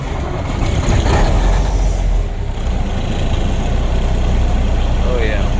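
A 1992 International 9200i truck with a Cummins N14 diesel that had sat since 2008 runs steadily on its own, a loud, close, continuous rumble with a voice heard over it.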